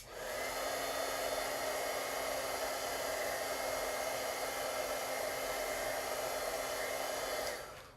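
A hair dryer blows steadily at close range for several seconds onto painted paper, a constant whooshing whine that cuts off at the end.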